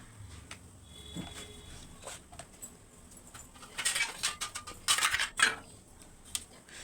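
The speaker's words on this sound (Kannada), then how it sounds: "ಈಗ ಇಡ್ಲಿ ಪ್ಲೇಟ್ಸ್ಗಳನ್ನು ತೊಗೊಳ್ತಾ ಇದ್ದೀನಿ" Metal idli plates being picked up and handled in a home kitchen, with scattered light clinks at first and then a cluster of louder, close metallic clatters and scrapes toward the end, with no talking.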